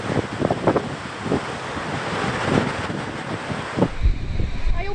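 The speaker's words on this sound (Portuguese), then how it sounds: "A maré subiu e causou muitos estragos na Orla de Santos." Storm surge waves and gusting wind batter the Santos waterfront, a dense, roaring wash of surf and buffeting wind noise filling the whole stretch, with a few brief voices mixed in near the end.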